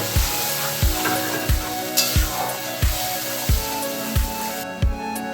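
Tomato paste hits a hot pan for a Bengali jackfruit curry, sizzling and frying steadily with regular spoon scrapes and stirs about every half second, close and fairly loud, no talking.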